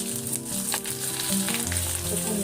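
Steady crackling sizzle of bhungra frying in hot oil, a dense bubbling hiss that runs continuously and close without any talk.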